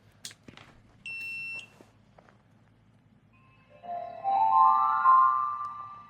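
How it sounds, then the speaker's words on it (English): An i2C T20 AI welding table powers on with a short electronic beep followed by a brief rising electronic melody, clear and close, with quiet background between. "you get a nice beep and a nice song as well"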